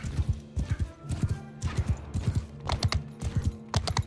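Horse hooves clip-clop in quick, repeated bursts in the video game YiGu Three Kingdoms, crisp and close, with the rhythm continuing across the whole stretch.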